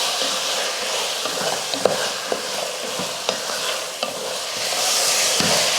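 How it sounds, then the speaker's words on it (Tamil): Country chicken sautéing in a pan with salt and turmeric, a steady broad sizzle with scattered sharp scrapes and clicks of stirring, close and fairly loud throughout. "உப்பு மஞ்சத்தூள் போட்டு நல்லா வதக்கிடலாம்."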